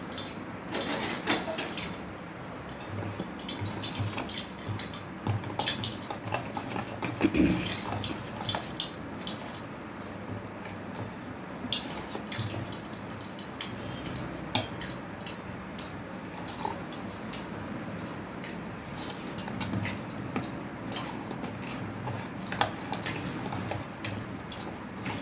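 Bajji batter for potato bajji being stirred with water in a bowl, a steady wet sloshing and dripping that runs throughout at moderate loudness, with no talking over it.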